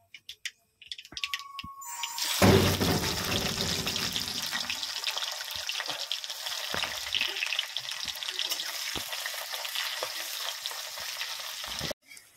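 Onions frying in hot oil in a pan for a home-made chicken curry, a steady loud sizzle that bursts in as they hit the oil and then crackles on evenly, with faint scraping of stirring underneath.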